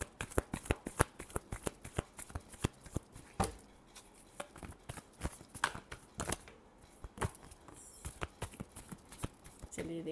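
Tarot cards are shuffled close by, giving a quick run of crisp riffling slaps and flutters, fairly quiet and irregular in rhythm, with no talking.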